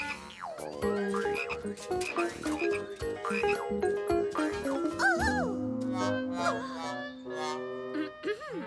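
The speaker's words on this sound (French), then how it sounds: "Grenouille." Cartoon frogs croak in a bouncy, comic chorus during a frog hunt in a children's animated show, repeated bright croaks and warbling calls layered over playful music, loud and close without speech.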